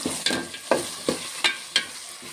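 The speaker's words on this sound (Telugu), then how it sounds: "ఇవి ఒక 2 నిమిషాలు ఫ్రై అవ్వాలి." Vegetables and peas with ginger garlic paste fry in a pan, a soft sizzle punctuated by six or so crisp scraping stirs of a spatula at close range, no voices.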